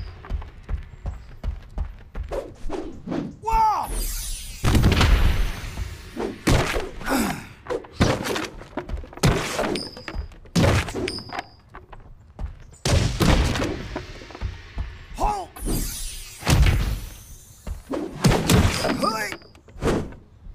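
Repeated thuds, slams and smacks of training dummies being smashed in a Kung Fu Panda video game, irregular bursts of impacts at close range with game music and effects, and a voice talking between hits.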